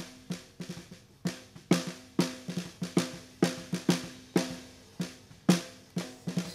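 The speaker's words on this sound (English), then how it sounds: "And the bottom one sounds like this." Bottom of a snare drum miked in a recording studio, struck in a steady run of about twenty sharp hits with short ringing decays, close and alone with no talk.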